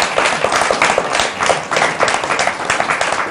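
Applause from an audience at a talk on politics and the Bush administration, steady dense clapping filling the whole moment at close range, with no voices over it.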